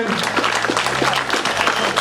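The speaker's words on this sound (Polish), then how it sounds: "Wielkie brawa." Applause at a rally award ceremony in Limanowa as the overall winner, Mitsubishi Lancer driver Mateusz Banaś, is called up; steady dense clapping fills the space with a low hum underneath.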